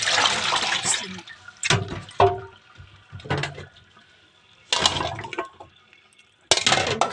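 Taro rinsed under running water, bursts of splashing and pouring separated by quiet gaps, with handling clatter between the water runs.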